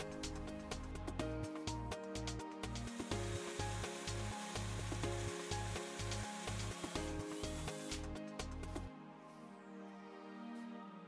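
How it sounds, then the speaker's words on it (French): A hacksaw cuts through a metal lock rod for a THIRARD VERTI three-point security lock, its strokes a steady rasping rhythm for about eight seconds under background music before stopping. "Pour le sciage, utilisez une scie à métaux."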